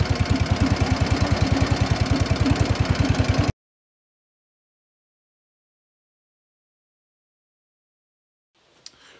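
A Cub Cadet 1450 garden tractor engine runs close by with a rapid, even chugging beat for a few seconds, then cuts to silence, followed by a faint brief click near the end.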